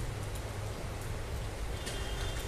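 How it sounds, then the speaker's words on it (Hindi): Heavy rain pours steadily over a park, a dense, even hiss with a low rumble underneath, continuous and unbroken with no voices. "ये बारिश हो रही है"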